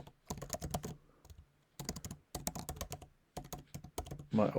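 Quick bursts of typing on a computer keyboard as an email address is entered, close-up clicking keystrokes in several rapid runs separated by short pauses, with no talk over them.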